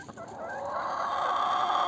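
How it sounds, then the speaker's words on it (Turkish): A hen clucks near the nest boxes of a henhouse while laying eggs, one drawn-out close call rising and holding, alone with no talk. "Tavuğumuz tekrar geldi."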